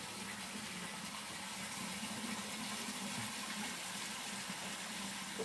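Water poured onto mud to wet it down while fixing a chicken coop, a steady continuous gushing wash that stays fairly loud and unbroken throughout, with no talking.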